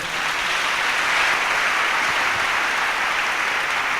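Church congregation at a healing and miracle service applauding together, a dense, steady wash of clapping from many hands filling the room.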